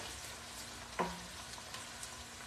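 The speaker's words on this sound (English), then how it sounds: "Okay, we fry this now a little bit before I put the rest." Ingredients for steamed mussels frying in a pan, a faint steady sizzle with one short scrape or clink of stirring, and no voices.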